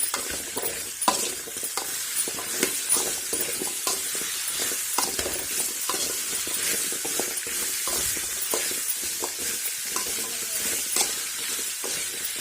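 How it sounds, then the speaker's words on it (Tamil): Pumpkin pieces sauté in oil over a high flame, with a steady bright sizzle and frequent stirring clinks and scrapes running throughout, close and fairly loud, with no talking. "இப்படி நல்லா வதங்கி வரும்போது இப்படி அது கொஞ்சம் நல்லா வதங்கி வரட்டும் இப்போ வந்து கொஞ்சம் ஹை ஃப்ளேமில் வச்சுக்கோங்க கேஸை"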